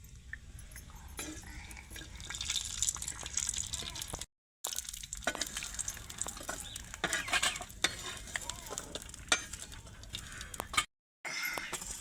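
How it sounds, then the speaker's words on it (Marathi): Spice masala dry-roasting on a thin, worn iron griddle used for bajra bhakri, with steady scraping and stirring strokes and a faint sizzle running through, briefly broken by two short gaps. "तर बघा तव्यावरती आपला सगळा मसाला असा भाजून घ्यायचा आहे"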